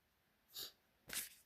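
Two sneezes from one person, a softer one followed about half a second later by a sharper, louder burst, close to the listener in an otherwise quiet room.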